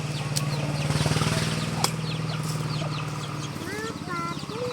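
A hen clucks in quick, rhythmic bursts while her chicks peep in high, rising chirps toward the end, with a voice mixed in close by.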